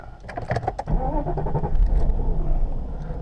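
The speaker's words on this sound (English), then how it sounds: "As you can see, it starts up with no issues, and as it sits here idle, it's very calm." A 1995 Mercedes S500 engine cranks and catches after a few sharp clicks, then settles into a steady, calm low idle, heard close up.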